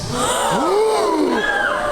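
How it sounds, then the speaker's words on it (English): A crowd of people at a live script reading gasps together in surprise, a short collective intake of breath with voices rising and falling over about two seconds. "The crowd gasps."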